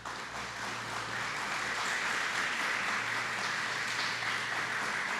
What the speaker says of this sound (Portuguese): Eu queria que você desse a você o aplauso que você merece.